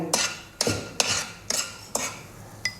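Dry fruits roasting in ghee for sattu ladoos, stirred with a spoon that strikes the pan in five or six evenly spaced metallic clinks, close and otherwise quiet.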